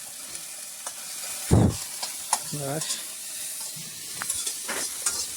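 Hot oil sizzles and crackles steadily as spices are tempered for a tadka, with a sharp hiss of steam and occasional stirring clinks; a voice speaks briefly.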